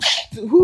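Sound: sneeze

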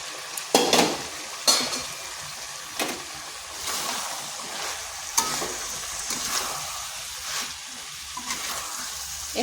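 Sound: bottle gourd being stirred and mixed with chicken in pan

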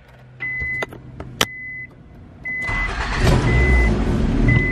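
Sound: car engine starting

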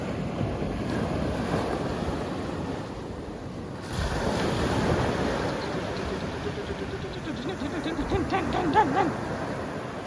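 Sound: ocean waves breaking

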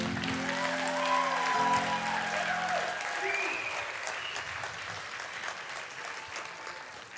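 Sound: audience applause for children's Christmas performance

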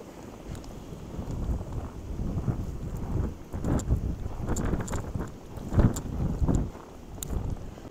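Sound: strong wind gusts in freezing weather

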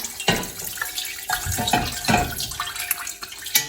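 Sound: pouring fish sauce into a pot

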